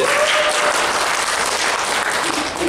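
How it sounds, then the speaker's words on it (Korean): Sustained applause from a company staff gathering after a short three-minute sales speech, dense steady clapping filling the whole stretch with no voices over it. "저 박수 한번 다시 한번"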